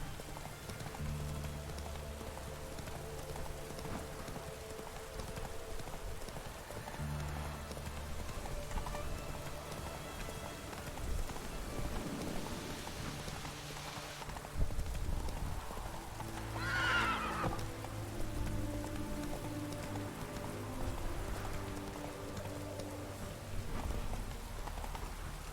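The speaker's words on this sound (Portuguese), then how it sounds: "Virou game correr com o cavalo." A horse in The Witcher 3 video game gallops through rain, its hoofbeats clopping steadily with a neigh or whinny over continuous rainfall and a game soundscape, with no talk.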